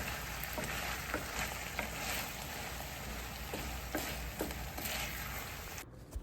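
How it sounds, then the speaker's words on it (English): Char siu pork being stirred in a pan as a cornstarch slurry thickens it, a steady broadband sizzle with repeated scraping strokes of the utensil, close and continuous, stopping abruptly near the end. "just stir it around for a bit until it begins to thicken"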